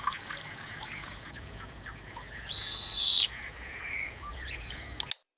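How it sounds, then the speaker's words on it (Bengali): An AI-generated bird sound effect: a single sustained, high whistling call over quiet, faint ambience, followed by a couple of sharp clicks before it cuts to silence. "পাখির সাউন্ডটা।"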